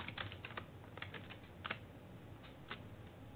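Quiet keystrokes on a computer keyboard while C code is entered, a few irregular clusters of soft clicks over faint room hiss.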